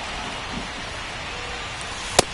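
Steady rain hisses over a ballpark in MLB The Show 25. It is an even, moderate wash of noise that keeps up throughout, with one sharp click near the end and no talking.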